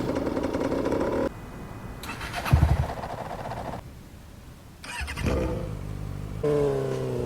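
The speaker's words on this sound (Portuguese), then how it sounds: "Cada uma delas vai ter o seu ronco exclusivo." Motorcycle engines from a video game's new motorcycle update, each with its own exhaust roar: loud, varied segments of revving and idling engine tones, changing abruptly every second or so, with no talk over them.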